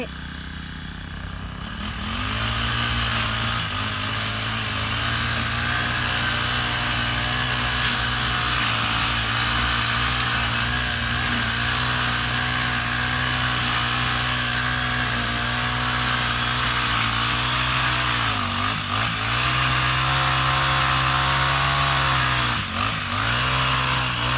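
A grass cutter's small engine runs steadily while cutting grass, loud and close for the whole stretch, with brief dips in pitch as the load changes.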